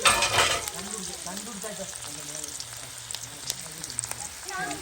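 Onions fry in a pan for a seafood fish curry, a close, continuous sizzle and crackle with a louder burst at the start and faint voices murmuring underneath.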